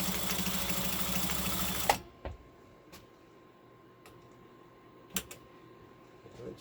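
A vintage Pfaff 130 sewing machine stitches with a steady, fast mechanical whir for about two seconds and then stops, leaving a quiet room broken by a few light clicks.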